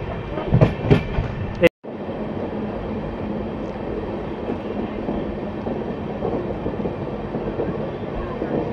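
The Kolkata-Sairang Express on its first commercial run rumbles steadily across the Nasipur rail bridge, a continuous close roar with rhythmic clatter of wheels that follows a brief burst of noise and a sharp cut.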